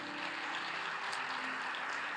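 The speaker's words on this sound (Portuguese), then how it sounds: "Você pode aplaudir o Senhor Jesus?" A church congregation applauds during a Sunday morning service, a steady, moderately distant patter of many hands with no voices over it.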